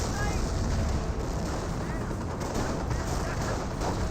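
Loud, dense battle noise from the World War II strategy game Company of Heroes, with shots fired at a Sherman Firefly tank, forms a constant wall of gunfire and booming explosions with no break.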